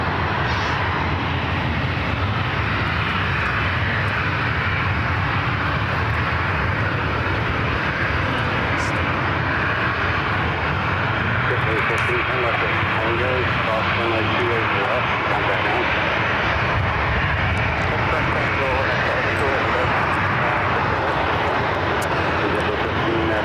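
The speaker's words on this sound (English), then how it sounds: "Then we have JetBlue Flight 15 coming in from JFK on the A321neo." A JetBlue Airbus A321neo jet arrives at SFO, its steady engine roar loud and continuous throughout, with voices talking over it.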